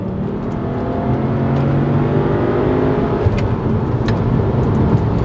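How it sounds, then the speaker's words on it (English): A manual VW Passat W8 engine revs under load while driving, a loud, close, continuous drone with rising and falling pitch and a few sharp ticks and thuds near the end. "What an interesting sounding engine. It sounds like a V8, but it has an element of VR6 to it"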